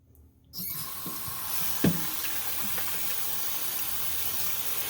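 After a brief quiet moment and a click, a faucet gushes water steadily while a mop is rinsed out, a constant close hissing rush.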